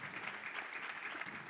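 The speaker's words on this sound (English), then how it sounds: "let's give our champion another round of applause, Benjamin Crump." Brief, steady applause from an audience at a national panel discussion event, dense clapping heard from a moderate distance with no talk over it.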